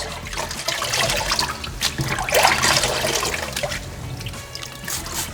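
Running water splashes and trickles steadily onto a car polishing pad as it is rinsed, a close, continuous rinsing noise with small surges, no voices.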